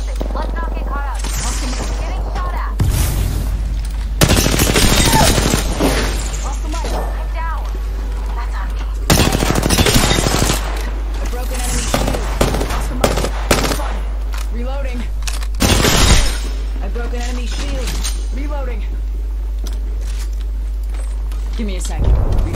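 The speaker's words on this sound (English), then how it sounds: "Opening fire on our right." Bursts of automatic weapon fire from an Apex Legends battle royale match rattle in several loud, rapid volleys separated by quieter stretches of game noise. In-game voice lines call out between the volleys.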